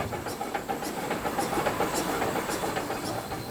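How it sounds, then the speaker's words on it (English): Achensee Railway steam locomotive at Eben hauling its train toward Seespitz on the Achensee line in Tirol, Austria: a steady close rumble of wheels on rails with faint rhythmic clicking and a soft hiss. "Here the locomotive is moved to pull the train the last 3 kilometers to Seespitz."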